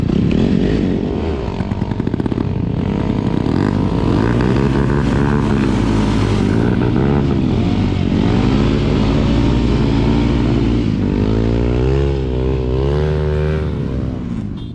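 A heavy 165 kg TaroGP1 V3 motorcycle revs hard for a wheelie. Its loud, close engine note climbs and falls in sustained surges throughout, with no talk over it.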